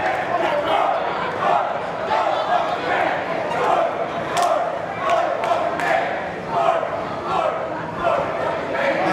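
A crowd at a wrestling show held inside a brewery, gearing up for a tag team grudge match, keeps up a loud steady roar of chants and shouts with a few sharp claps and bangs.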